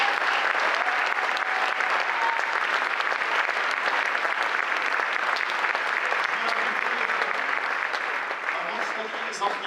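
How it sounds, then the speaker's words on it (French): Applause from the audience at a town mayor's New Year address, dense and sustained for the whole stretch, a broad even wash of many hands clapping at moderate loudness. "Merci à eux, vous pouvez les applaudir."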